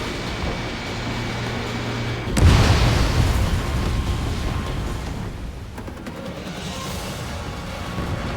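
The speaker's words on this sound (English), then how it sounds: "Bomber hit by a missile." A bomber struck by a missile in a flight combat video game explodes with a sudden loud boom and rumbling burst, then a long roaring, crackling decay over steady engine drone.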